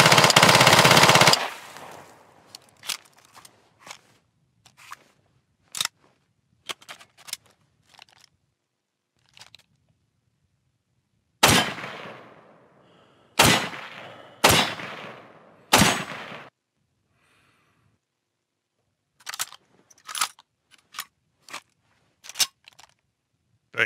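Weapon fire from the military shooter game Squad: a loud opening burst, then scattered single shots, clicks and several sharp heavy reports separated by silences, close and punchy.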